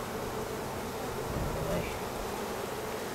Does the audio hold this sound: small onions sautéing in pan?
no